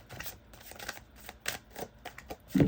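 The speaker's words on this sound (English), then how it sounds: "Let me shuffle." Tarot cards being shuffled by hand, a close run of quick irregular riffling snaps and soft slaps, ending in a louder thump as the deck settles, with no talking.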